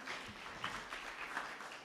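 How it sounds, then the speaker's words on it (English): An audience at a report launch event applauds a speaker, soft continuous clapping from a crowd heard at a distance for a couple of seconds. "Let's continue clapping for Madam Martha"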